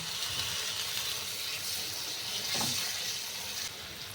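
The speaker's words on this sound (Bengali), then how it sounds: "এবারে মিক্সি ধোয়া জলটা আমি এতে দিয়ে দিচ্ছি" Water from rinsing a mixer jar is poured into spice paste frying in a pan for an aloo matar curry. The steady sizzle swells briefly with a splash and bubbling hiss partway through, then settles, with no talking.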